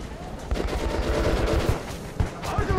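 Bursts of rapid automatic gunfire from the video game Metro 2033 Redux crack close by in quick succession, uneven volleys with sharp transients over a rumbling game background.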